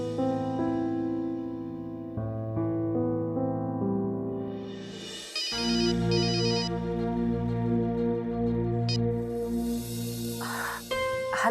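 A telephone rings with a repeating electronic melodic ringtone, loud and close, cycling through several phrases over about eleven seconds with no talk over it.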